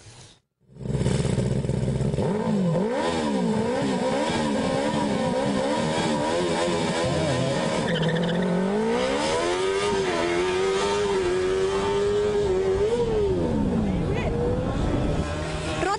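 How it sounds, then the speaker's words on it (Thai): A Formula Student race car from the Thai-Nichi Institute of Technology runs the skidpad event at TNI Formula Student 2012, its engine revving loud and continuous with pitch rising and falling through the corners while someone talks over it. "กำลังเข้าแข่งขันสกิดแพดคือขับไม่ให้หลุดโค้งด้วยความเร็วมากที่สุด"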